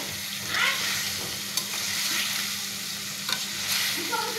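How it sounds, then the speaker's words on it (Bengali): Hilsa fish being stirred and fried in a spice paste of ground cumin for a Bengali hilsa bhuna curry: a steady close sizzle with a few scraping stirs of the spatula, alone with no talk. "ইলিশ মাছগুলো দিয়ে আমি সাথে একটু নাড়াচাড়া করব, কষিয়ে নেব মশলাটার সাথে"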